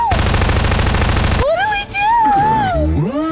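Bastion's turret machine gun in an Overwatch animation rattles in a loud, dense, continuous burst for about a second and a half, then stops and gives way to voices and whooshing effects.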